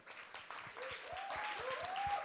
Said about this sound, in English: So let's give him applause.